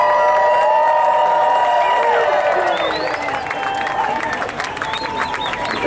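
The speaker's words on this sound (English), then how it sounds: "Give yourselves a round of applause" A large outdoor crowd at a Hollywood strike rally outside Disney Studios claps and cheers, with whoops and shouts over dense, continuous applause that stays loud before easing slightly near the end.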